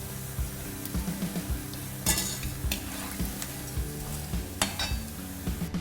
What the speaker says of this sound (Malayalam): അടുത്ത ബാച്ചും കൂടെ ഞാൻ ഇതുപോലെ തന്നെ ഫ്രൈ ചെയ്ത് എടുക്കാം.